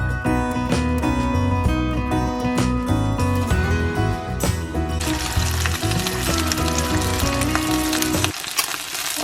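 Asparagus and egg sizzle and crackle in a hot pan, loud and continuous, under background music, with the sizzling flaring up brighter partway through.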